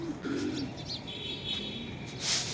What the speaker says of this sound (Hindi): अब हम उड़ार वाले कबूतरों को खोलते हैं।